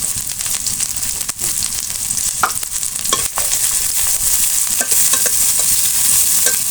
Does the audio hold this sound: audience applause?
no